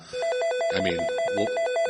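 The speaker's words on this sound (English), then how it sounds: "The phone's ringing." A telephone rings in a steady, loud electronic pattern of repeated trilling tones, close and alone with no voices.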